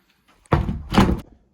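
A room door is shut firmly, producing a loud close thunk in two heavy swells, a push then the latch closing, with brief quiet before and after.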